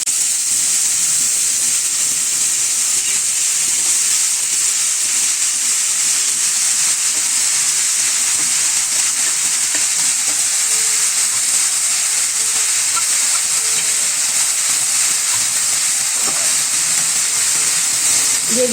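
Chopped fenugreek greens fry in a pan, giving a steady, bright sizzle with a soft hiss that holds at an even level throughout, close and continuous with no talking.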